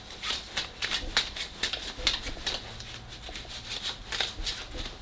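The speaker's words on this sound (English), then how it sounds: "That really looks like I have shuffled those cards" A deck of playing cards is shuffled by hand in a Hindu-style shuffle, a run of quick crisp riffling bursts and soft slaps close to the mic.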